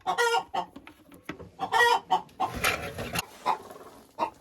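Hens cluck in repeated bursts inside a winter chicken coop where Faverolle hens sit on a nest, the calls close and lively with short pauses and scratchy rustling between them.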